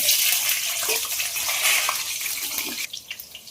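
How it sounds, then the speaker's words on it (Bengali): Potatoes dropped into hot oil in a wok for a mutton curry. A loud, dense hiss that sounds almost like running water dominates, then fades to scattered crackles near the end, with no talking. "তেল গরম হয়ে গেছে, ভাজার জন্য আলুগুলো ছেড়ে দেবো।"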